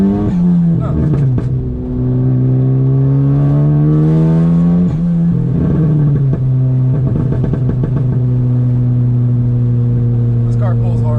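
Turbocharged Ford Focus ST accelerating hard, its engine note climbing steadily through the gears with a brief dip at each shift, loud and close from inside the cabin, while people talk over it.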